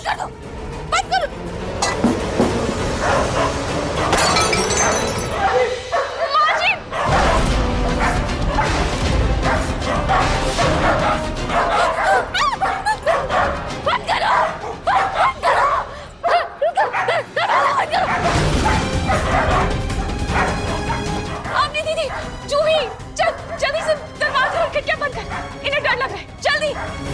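Dogs bark repeatedly at close range in a Hindi TV drama scene, the barking mixed with loud, agitated voices, crashing noises and dramatic background music for most of the stretch.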